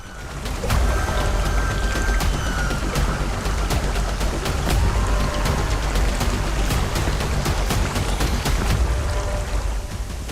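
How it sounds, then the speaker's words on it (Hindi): A big waterfall roars somewhere ahead in the Bijapur jungle of Chhattisgarh, a steady, loud wash of falling water with no letup, dotted with sharp crackling splashes and no voices. "मुझे बहुत तेज आवाज आ रही है, वो इस दिशा से है, और शायद मैं अब उस बड़े झरने के पास पहुंच चुका हूं"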